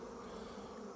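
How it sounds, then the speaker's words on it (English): Bees buzz around a hive on a warm day, a dense continuous drone of many insects close by. "It's a warm day, so the bees are out and about having a good old time"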